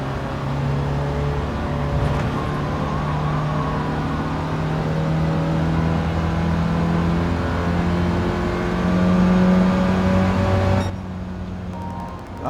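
A steady, loud engine drone from an Autobianchi car in the Gran Turismo 7 racing game holds a sustained pitch with slight swells, then drops off abruptly near the end.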